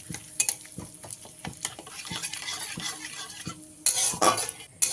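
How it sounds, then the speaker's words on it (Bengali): Cumin, fennel seeds and asafoetida fry in hot oil while being stirred. Quick scraping strokes and metallic clinks of a spoon against the pan sit over a light sizzle, and a louder burst of frying comes near the end. "সব কিছুকে ভালো করে একটু ভাজা ভাজা করে নিতে হবে"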